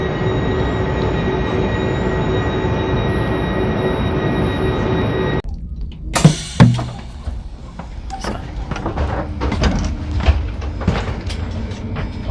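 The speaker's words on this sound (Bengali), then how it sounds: "এবং এই ট্রেনে করে জুরিক থেকে আমরা ফ্রান্সে ফ্রান্সে চলে যাবো" A TGV Lyria train at Zurich station gives a steady, loud mechanical hum that cuts off abruptly, followed by a few sharp thumps and scattered clatter from around the platform and carriage.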